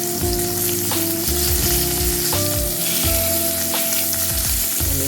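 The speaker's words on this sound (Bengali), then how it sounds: "আমি সব কটা পটল উল্টে পাল্টে সুন্দর করে ভেজে নিলাম" Pieces of pointed gourd (potol) fry in hot oil in a pan, a loud, continuous close sizzle with scraping stirs and turning clicks throughout, no voices.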